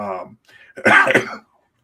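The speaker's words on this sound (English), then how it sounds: "Sorry about the cough." A single harsh, close cough, preceded by a brief throaty sound.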